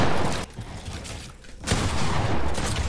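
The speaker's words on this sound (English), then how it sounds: "Oh, you shot me!" Video game gunfire erupts in loud, dense bursts, with a brief lull in the middle before another heavy volley of shots, close and punchy throughout.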